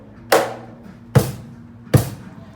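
A Roland electronic cajon is played acoustically with its electronics off, giving three separate, evenly spaced hand strikes, each a deep woody thump with a short buzzing rattle.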